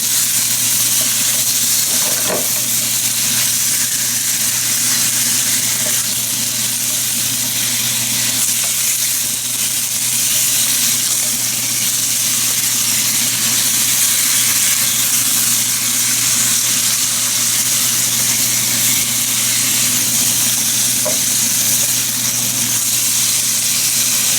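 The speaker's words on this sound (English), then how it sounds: "The pork, as you can see, it's very thin. It should fry pretty quickly." Thin slices of pork fry steadily in a pan, a constant loud sizzle and hiss with occasional faint pops, close up and unbroken throughout.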